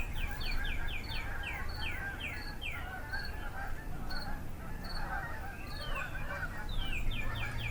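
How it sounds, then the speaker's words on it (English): Distant, unseen geese honk repeatedly in August in a loose, overlapping series over a steady outdoor background hum, with other birds calling faintly now and then. "you can hear the geese"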